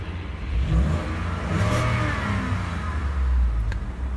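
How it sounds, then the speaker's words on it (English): A 2020 Ford F-150 Lariat Sport 4x4 with a 5.0 V8 revs up close by, a deep rumble swelling to a roar and easing back over a few seconds. "We'll rev it up here a little bit."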